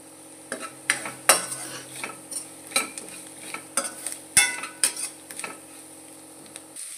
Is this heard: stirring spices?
yes